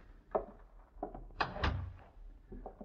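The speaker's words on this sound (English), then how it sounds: "Close the door, please." Door being closed as a radio drama sound effect, a few soft knocks and handling sounds building to a muffled thump, quiet and close, with no talking.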